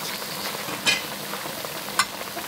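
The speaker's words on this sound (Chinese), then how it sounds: "现在我们就大火收汁" Chili fish sauce bubbling hard in a wok over high heat, a steady close sizzle with two brief sharp clinks of a utensil against the pan.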